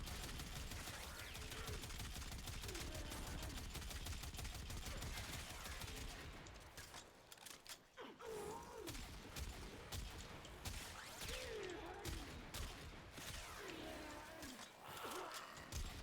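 Warframe gun in burst and automatic fire, a rapid continuous rattle of shots that thins into spaced bursts with brief gaps, loud and close over game ambience.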